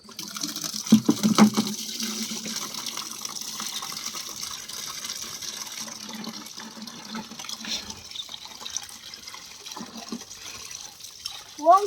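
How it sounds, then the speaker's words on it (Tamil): Water gushes from a tap into a metal pot outdoors, a steady moderate rush lasting throughout, with voices talking over it at the start and briefly near the end. "இதில் தண்ணி பிடிச்சிக்கலாம்."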